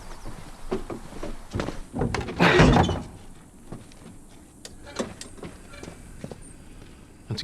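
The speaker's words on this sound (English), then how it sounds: "And you close the door?" Door closing in The Last of Us video game, a heavy thud with a rattling slam around the middle of the clip, followed by softer knocks and footsteps in a quiet interior.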